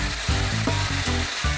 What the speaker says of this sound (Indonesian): kita cemplung-cemplung ke minyak panas alias goreng